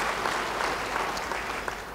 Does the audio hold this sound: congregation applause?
yes